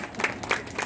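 A burst of audience clapping at a temple festival stage program in Delhi, applauding performers between acts. Brisk, fairly dense applause with no talking, lasting just under a second.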